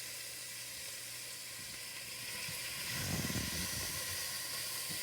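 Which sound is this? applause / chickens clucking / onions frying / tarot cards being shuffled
onions frying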